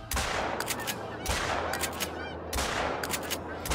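Shotguns fire at incoming geese during a hunt with a Labrador retriever, three heavy booming volleys of rapid overlapping shots, loud and close, each followed by a short decaying tail.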